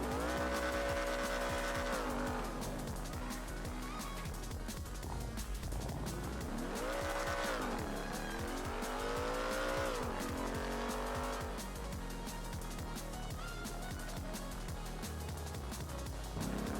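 A 450-horsepower GT sports car in the GTA video game revs up and down through repeated gear sweeps, its engine loud and continuous, with tires squealing under hard driving.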